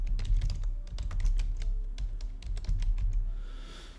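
Rapid clicking of keys on a computer keyboard, close and fairly loud, in irregular bursts with brief pauses, no talking.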